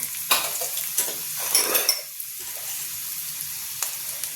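Garlic sizzles softly in a pan for spinach dal, with a few scraping stirs of a spoon against the pan early on and a steady low frying hiss throughout.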